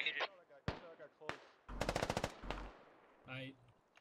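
Gunfire in a tactical shooter game, with isolated sharp shots and a rapid automatic burst of about eight rounds, close and punchy, with a voice heard briefly at the start and end.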